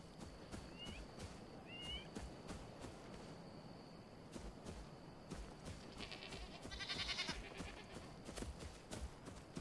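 A goat in the video game Enshrouded gives two short, faint bleats near the start, over a quiet bed of in-game ambience.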